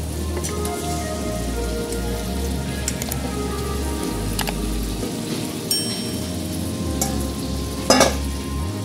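Marinated mutton frying in a pan for mutton jhol, a dense continuous sizzle and crackle with a low steady hum beneath and a brief louder clatter near the end. No one speaks.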